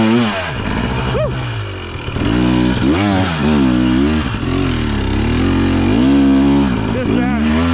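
Husqvarna TX300 2023 two-stroke dirt bike climbing a steep uphill trail, its loud engine revving and bogging with rising and falling pitch, close to the rider, with a voice talking partway through.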